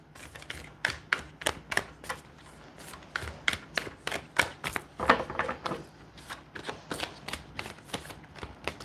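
Tarot cards are shuffled close up in quick bursts of crisp, papery riffles and slaps, repeating irregularly with short pauses between.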